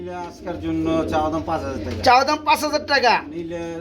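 Fancy pigeons cooing at a seller's loft, several soft rolling coos rising and falling close by, mixed with someone talking.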